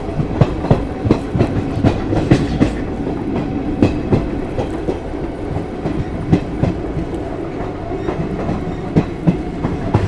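Chetak Express train on the Udaipur to Delhi route, running near Mavli Junction at sunset: a steady rhythmic clickety-clack of wheels over rail joints with a continuous low rumble, close and fairly loud throughout.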